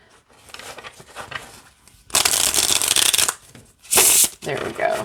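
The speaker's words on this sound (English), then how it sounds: "I have to push them in a little bit more than I do the regular size decks to shuffle." Light Seer's pocket tarot cards riffle-shuffled by hand, with a long loud riffle and then a shorter sharp burst, followed by quieter card handling. A voice talks between the shuffles.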